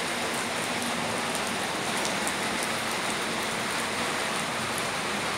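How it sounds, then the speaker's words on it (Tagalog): Steady rain pours down, a dense, even hiss of drops on surfaces with occasional sharper patters, no voices. "Aray ko, umuulan."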